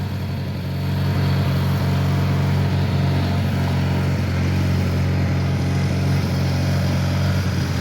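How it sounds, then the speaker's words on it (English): Small John Deere 420 garden tractor engine idling steadily on a driveway, a loud continuous low engine drone with a constant hum from start to finish and no voices. "Nothing mightier than a little John Deere 420"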